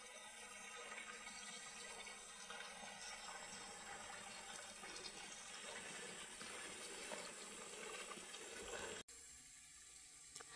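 A small stream on a farm flows with a faint, steady rushing wash that continues evenly before cutting off abruptly near the end.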